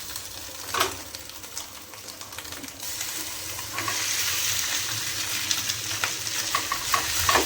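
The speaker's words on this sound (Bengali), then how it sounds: "ম্যাগি মশলাটা ছড়িয়ে দিলে ব্যাস ভাজা ম্যাগি হয়ে যাবে" Maggi instant noodles crackle and sizzle in a pan with very little oil, with frequent stirring scrapes and light clatter, continuous and close by.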